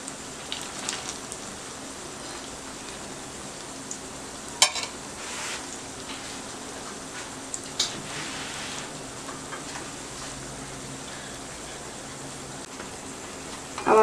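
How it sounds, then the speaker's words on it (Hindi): Chicken chappli kabab frying gently in a pan over low heat, giving a steady, fairly quiet sizzle throughout with a few sharp pops and crackles breaking through. "तो हमने थोड़ा सा अभी इसे और फ्राई करना होगा"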